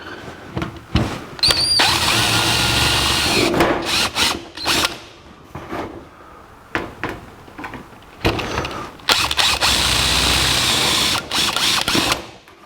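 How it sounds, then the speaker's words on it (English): A drill press with a step drill whines in bursts, enlarging holes to 5/16 inch in a drive shaft loop for a 1949 Chevrolet gasser, with metallic squeals, clanks and ratcheting handling noises between runs, loud and close. "I've set up in the drill press a step drill"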